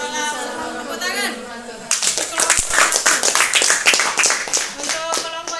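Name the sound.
applause from class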